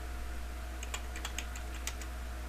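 Keys click on a computer keyboard in a short, uneven burst of soft taps over a steady electrical hum, with no talking.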